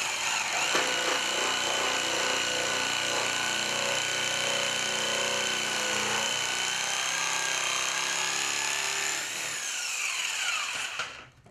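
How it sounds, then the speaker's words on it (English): A jigsaw cuts across the end of a pallet board for a picket gate, its blade buzzing loud and continuous, then the tone shifts and trails off as the cut finishes near the end. "I'm going to square off the end here with a set square and run it off with a jigsaw"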